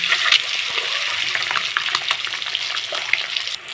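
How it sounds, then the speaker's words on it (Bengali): Eggs frying in oil seasoned with salt and turmeric, a loud, close, steady hiss with a few small crackles and pops, easing off near the end. "লাল লাল করে একটু ভেজে নেব।"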